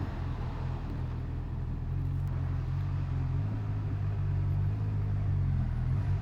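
Honda CB1000R motorcycle idling while warming up, a steady low, throaty rumble held close and even throughout with no revving.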